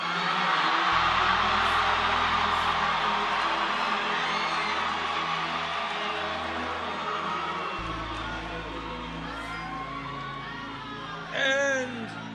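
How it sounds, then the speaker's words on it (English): A huge crowd at a political rally in the Phoenix Convention Center roars, whoops and yells continuously for about twelve seconds, dense and loud, with a low hum beneath and a brief sharper shout near the end. "And this is a loud crowd."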